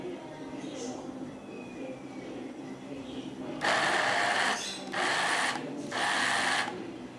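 A kitchen grinder pulses peanuts into homemade peanut butter in three short loud bursts after a quieter stretch, with a faint voice in the background.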